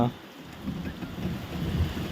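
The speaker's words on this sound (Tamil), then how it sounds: "காத்தோட சரியான மழை பெய்யுதுப்பா" Heavy rain driven by wind on a lorry trip, a dense, rushing wash of noise with gusty swells, moderately loud and heard alone without talk.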